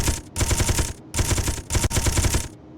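Rapid automatic gunfire in the Space Engineers video game, loud sustained bursts of rattling shots broken by short gaps, close and alone with no talking.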